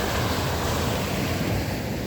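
Ocean surf rolling onto a beach, a steady broadband wash of breaking waves with wind buffeting the microphone, loud and continuous with no voices.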